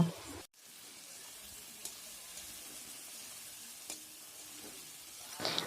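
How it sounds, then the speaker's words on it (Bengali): Potatoes frying with salt and turmeric in a wok, a soft, quiet sizzle with a few faint clinks and a short gap near the start, no one speaking. "এবার কড়াইয়ে আলু দিয়ে দেব আলুগুলোকে নুন হলুদ দিয়ে ভালোভাবে ভেজে নেব"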